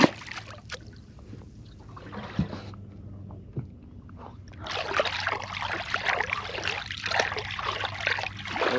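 Water splashes and trickles as a lip-hooked, bleeding fish is let go back into Lake Macquarie, quiet at first and then building into a steady, louder rush of moving water in the second half.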